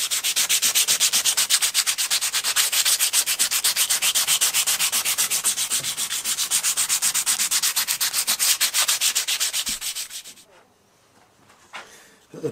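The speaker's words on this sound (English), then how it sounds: "let's crack on, get this this handle sanded" Steady, rapid abrasive rasping as a knife handle is sanded, loud and continuous for about ten seconds before stopping abruptly, followed by near silence with a faint knock.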